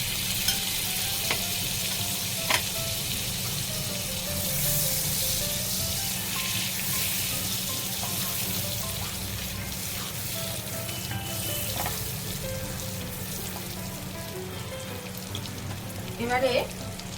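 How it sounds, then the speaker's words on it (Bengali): Butter melts in a kadai over a very low gas flame, a steady gentle sizzle and hiss that runs on evenly, with a few quiet clinks and a brief clatter near the end. "কড়াই বসিয়ে দিয়েছি, এবার এই বাটারটা দিয়ে দেব। আর গ্যাসটা বন্ধুরা খুব লোয়ে রাখবেন।"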